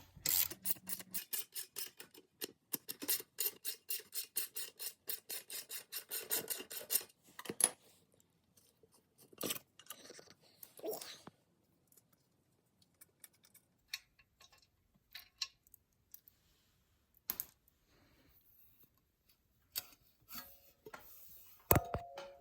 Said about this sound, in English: This ratchet's awful.